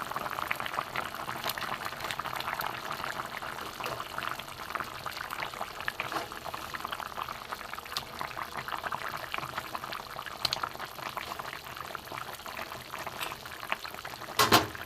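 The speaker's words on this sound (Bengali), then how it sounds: "ফুটছে এখানে।" Sukto vegetables boil in a pot, giving a steady, close bubbling simmer that stays fairly even throughout, with a few slightly louder pops near the end and no talking.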